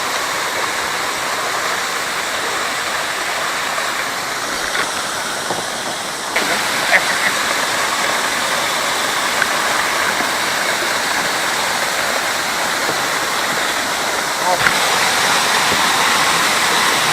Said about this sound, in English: That is. That's one of the prettiest things. I've never seen nothing like it.